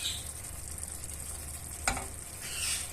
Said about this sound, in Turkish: Biraz şöyle karıştıralım.